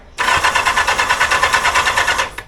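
A Kawasaki turbo jet ski engine cranks over in a steady rapid pulsing whir, starting abruptly and stopping after about two seconds, close and loud with no talk.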